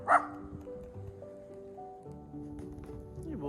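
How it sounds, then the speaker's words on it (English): A stray dog on a beach gives one loud close bark at the start, then quiet whimpering and small yips under low background noise. "No idea who this dog is."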